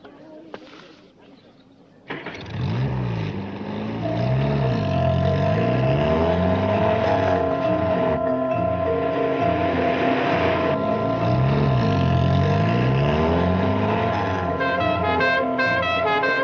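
A car engine hums and surges through shifting revs, with a steady tone running over it and faint speech near the end.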